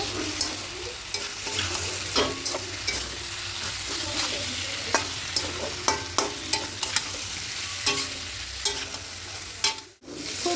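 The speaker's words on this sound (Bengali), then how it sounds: "এবার এখানে ভেজে রাখা আলুটা দিয়ে দেবো আর সোয়াবিনটাও দিয়ে দেবো দিয়ে সব কিছু খুব ভালো করে মিশিয়ে নেব" Fried potatoes and soybeans get stirred into a spice mix in a pan, bringing a soft sizzle under repeated spoon scrapes and clacks at an uneven rhythm, close and fairly quiet, with one brief louder knock near the end.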